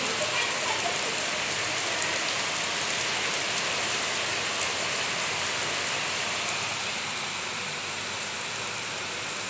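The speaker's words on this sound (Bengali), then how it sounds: "এই যে বলতে বলতে বৃষ্টি শুরু হয়ে গেছে, ঝড় বৃষ্টি" Steady heavy rain during a storm pours down in a dense, even hiss that stays loud and constant throughout, with no voices.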